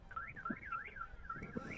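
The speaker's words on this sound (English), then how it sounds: "Somebody can't control their alarm." A car alarm wails in the background with a rising and falling siren tone, steady and fairly faint, heard alone with no talk.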